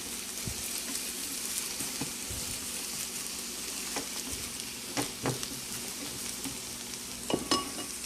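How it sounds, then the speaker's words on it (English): Eggs frying in a pan for scrambled eggs and being chopped up, a quiet steady sizzle broken by occasional soft taps and scrapes of the utensil against the pan. "you take these eggs, when they kind of set a little bit, just chop them up. This is for scrambled."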